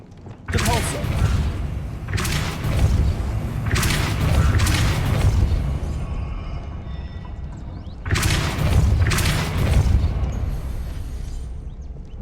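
Spell blasts in the Hogwarts Legacy video game: four loud, booming magical bursts with deep thuds and crackling tails, spaced a few seconds apart over a steady low rumble, with a brief shouted incantation.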